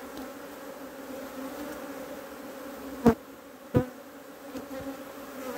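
Honeybees hum steadily around an opened hive, a dense continuous buzz close by, broken by two sharp knocks of handling near the middle and no talking.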